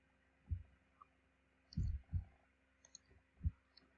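A few soft computer mouse clicks, opening a downloaded Google Sheets file, spaced out over a few seconds and faint against a quiet background.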